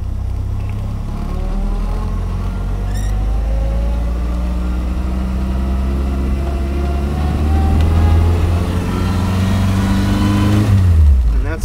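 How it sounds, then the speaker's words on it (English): A Bugeye Sprite car accelerates and shifts up through the gears, its engine note climbing in pitch, dropping at each shift and rising again, loud and close, ending with a sharp fall in revs. "And that is the basics of upshifting in a Bugeye."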